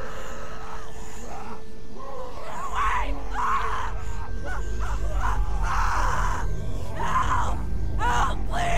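A girl screams repeatedly for help in The Walking Dead video game, loud shrill cries coming in bursts over a steady rumbling background.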